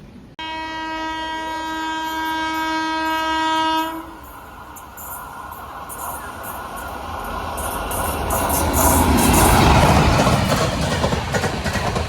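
A long, loud horn blast from a Mumbai-area local passenger train, followed by the rising rumble and clatter of wheels on the rails as it passes close by.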